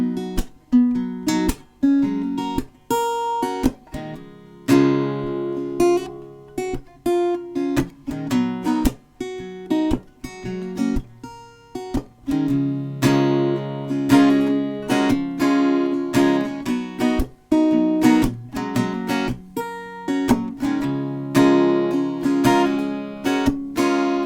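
Acoustic guitar chords played solo for a song, the intro and verse section strummed in a steady, busy rhythm with sharp attacks, close and fairly loud with no talking.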